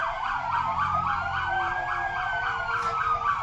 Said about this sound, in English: What's with all the sirens?